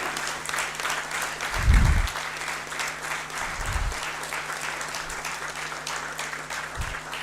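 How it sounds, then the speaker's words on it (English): Audience applause at an IPMA annual general meeting, steady clapping throughout at a moderate distance with a few low thumps and faint crowd noise. "Please give him a big applause."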